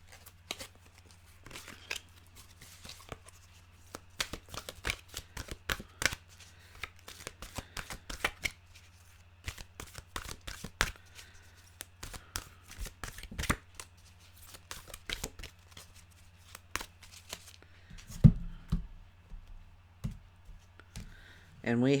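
A deck of Journey of Love oracle cards being shuffled, giving rapid, irregular papery riffles and flicks that run in bursts for most of the stretch, fairly close and clear against a steady low background hum.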